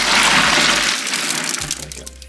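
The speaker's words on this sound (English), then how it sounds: "And we're gonna pour this over the ice." Brine of water and kosher salt poured over ice, a loud gushing pour that tapers off, then scattered splashes and trickles as the liquid settles over the cubes.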